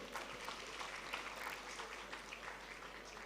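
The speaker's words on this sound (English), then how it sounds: "A round of applause for him." Scattered applause from guests at a silver jubilee anniversary dinner in Ghana, a soft, fairly distant patter of clapping with no talking over it.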